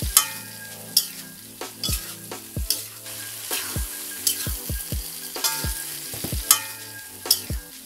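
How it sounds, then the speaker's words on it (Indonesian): Fried potatoes being stirred into spicy sambal sauce in a pan, a continuous sizzle broken by a rhythmic series of spatula scrapes and knocks against the pan, no voices. "Aduk-aduk hingga tercampur rata dengan bumbu."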